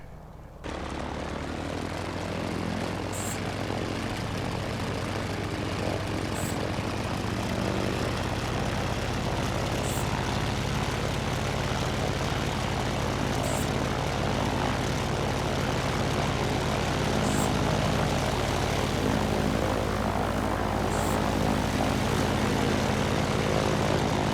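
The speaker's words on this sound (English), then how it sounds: "let's jump outside and listen to the engine" A Grumman F4F-4 Wildcat warbird's radial aircraft engine runs steadily and loudly up close, a constant deep propeller drone holding throughout with no voices.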